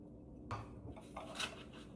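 A set of nesting bowls handled, giving a few faint clinks and light knocks, quiet and close against a soft background.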